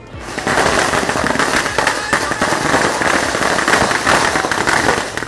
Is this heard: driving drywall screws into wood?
no